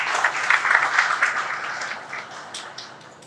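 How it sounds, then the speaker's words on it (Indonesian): An audience claps for the Indonesian National Police (Polri) at a formal event, a moderate burst of applause that swells early and gradually fades, with a few sharper claps near the end. "Tepuk tangan untuk Polri."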